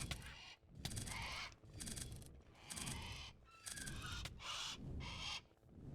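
Birds in the Minecraft World of Heroes game give a rapid run of harsh, rhythmic caws, about six bursts in a row, fairly loud and with no talk over them.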